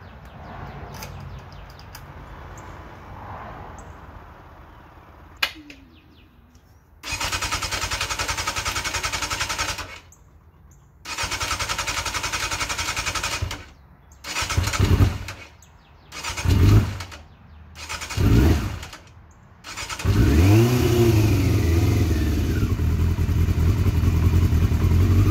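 A Yamaha YZF600R sport motorcycle being cranked for the first time in a while, with repeated loud starter-and-engine bursts broken by pauses, several short rising revs, then a sustained close, loud running engine.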